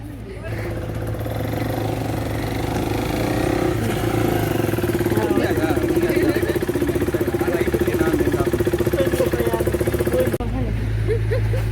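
A motorcycle engine running steadily throughout, loud and close, with people talking over the engine noise at a wedding outing with friends.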